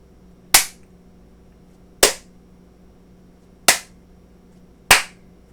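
Four crisp hand claps, evenly spaced with quiet gaps between, sound off close to the mic in a quiet room while an Arduino sound sensor module is tested.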